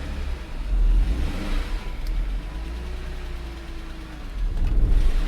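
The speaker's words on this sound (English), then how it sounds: "Let's put it in 5th gear and see if it still tries to pull or if the clutch slips." A BMW X5 engine revs up in fifth gear during a clutch-slip test at a Copart auction yard, a steady close rumble that swells briefly, then rises again near the end, with no talking.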